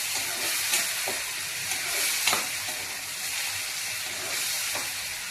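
A puree of tomato, ginger-garlic and green chilli sizzles loudly in a hot pan for a bottle gourd kofta curry. The hiss is steady and close, with faint stirring scrapes and no talk.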